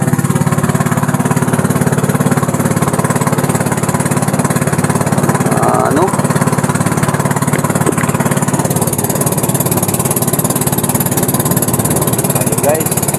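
A small fishing boat's engine runs at sea, a loud, continuous buzzing drone close by that holds steady from start to finish.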